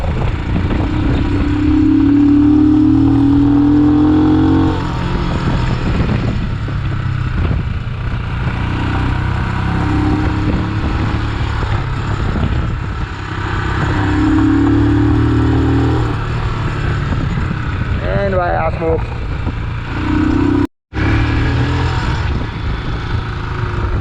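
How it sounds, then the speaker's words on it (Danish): Motorcycle ride through traffic on an Indian mountain road, the engine droning close and steady throughout with repeated revs rising and falling as it overtakes, plus a brief cut near the end. "En af fordelene ved at køre på motorcykel, det er, at det er så meget nemmere at overhale."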